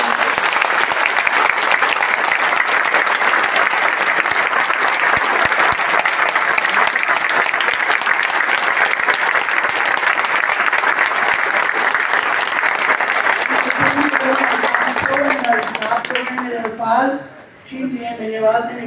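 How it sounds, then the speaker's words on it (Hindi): A standing audience in a Grand Plaza Hotel hall in Doha claps loudly and continuously for about fifteen seconds. Then the applause thins and a voice begins speaking. "जरा खड़े होकर जोर से ताली बजाइए अपने लिए."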